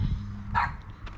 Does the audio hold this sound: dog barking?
yes